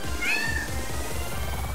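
Cat meowing in the video game Mad Rat Dead, a single drawn-out meow rising over steady game music and rhythmic background beats.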